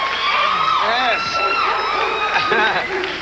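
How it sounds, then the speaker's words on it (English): A television studio audience screams and cheers loudly and without a break, with shrill whoops rising over the crowd noise, and voices speak beneath it. "They're still screaming."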